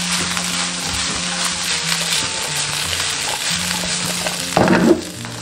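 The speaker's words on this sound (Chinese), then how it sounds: "锅中倒食用油，依次的下入花菜、萝卜、莴笋" Cauliflower, radish and celtuce stir-frying in hot oil in a wok, a continuous close sizzle with a louder burst of crackling near the end as the vegetables are stirred or added.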